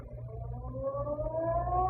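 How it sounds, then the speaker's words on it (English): San Francisco Ferry Building siren sounding the hour over downtown, a steady rising wail that swells slowly and holds loud against low background rumble, with no voices. "just as the ferry building siren was announcing 8 o'clock to downtown San Francisco"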